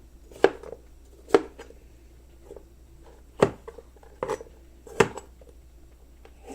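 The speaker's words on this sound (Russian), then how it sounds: "И вот так я весь перчик сейчас нарежу." A knife chops bell peppers into large slices on a cutting board: five distinct, sharp thunks spaced unevenly over several seconds, fairly close, with quiet pauses between.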